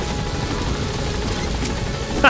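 Helicopter from the video game Metal Gear Solid 5: The Phantom Pain, with a steady rotor drone and engine whine that holds at a constant loud level throughout, ending in a brief louder burst.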